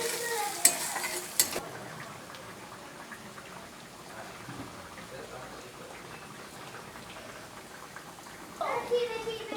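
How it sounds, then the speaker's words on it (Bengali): Sliced onions with salt frying in a pan for a bean mash dish, a low continuous sizzle with sharp stirring scrapes at the start and again at the end, with a voice talking over it. "পেঁয়াজটা যাতে তাড়াতাড়ি ভাজা যায়"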